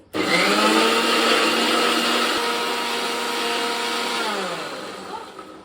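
A blender grinds bottle gourd with one amla into a fine paste for juice: a loud, steady motor whine that runs alone for about five seconds, then winds down.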